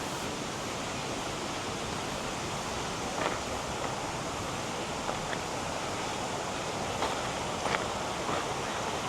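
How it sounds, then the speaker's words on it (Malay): A river at White Stone Campground in Kampar, Perak, rushes in a steady broadband wash of flowing water, with a few faint splashes standing out now and then and no talking. "Kita pergi tengok sungai dia kejap kan."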